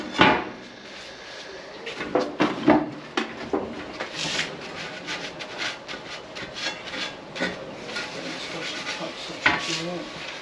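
Wooden barn beams rubbing and creaking in irregular bursts, some sharp and near, others softer, with scraping in between and no talking.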